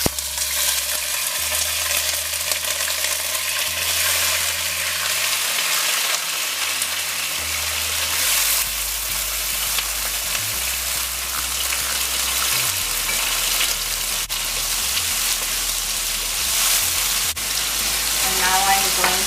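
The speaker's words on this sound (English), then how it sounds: "The first thing I'm going to do is to fry the shrimp." Black swamp shrimps fry in a pan for a cassava curry, giving a steady, close sizzle that runs unbroken for the whole stretch with no talking.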